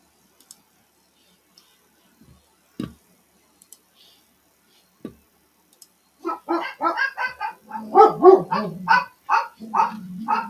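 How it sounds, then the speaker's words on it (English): Several dogs barking loudly at home during a weather livestream, a few faint clicks first and then a dense run of overlapping barks, near and sharp. "My dogs are very loud."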